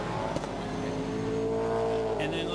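V8 SuperTourer race car at Hampton Downs accelerating hard up through the gears toward sixth, a loud steady engine drone close by with a commentator talking over it.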